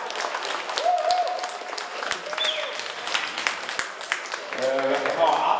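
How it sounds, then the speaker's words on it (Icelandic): An audience at an Icelandic boccia team championship applauds the winners, steady clapping throughout with a few whistle-like squeaks and brief voices under it. "Og gefum fyrstu deildinni mjög gott klapp ásamt"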